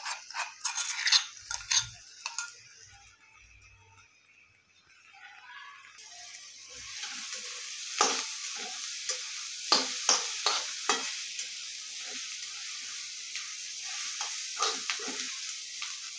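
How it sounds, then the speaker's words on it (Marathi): Ground chutney fried with onions in a pan, first quiet scraping taps, then a swelling close sizzle punctuated by repeated spatula clicks and stirring scrapes in an irregular rhythm; no one speaks. "कुटलेली चटणी आपल्याला कांद्यासोबत थोडीशी फ्राय करून घ्यायची."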